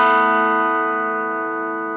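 Electric guitar chord on an Epiphone Gold Top's bridge pickup through a Vox AC4TV amp, one sustained ringing strum slowly decaying over two seconds, clean and alone.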